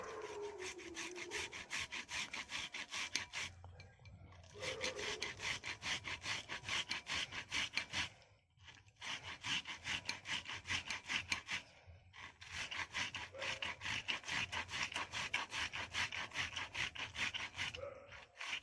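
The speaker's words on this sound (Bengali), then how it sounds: "এবার আমি টমেটোটাকেও ওই ভাবে ঘষে নেব।" Ripe tomato rubbed by hand against a kitchen grater for a carrot recipe, a steady rasping scrape in repeated strokes with three brief pauses, fairly close and alone.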